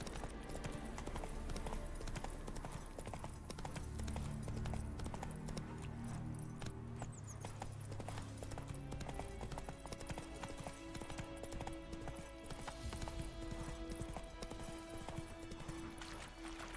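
Roach, the horse in the video game The Witcher 3, clip-clops along in a steady trotting rhythm under a bed of game music and ambience, with tonal musical lines rising in the later part.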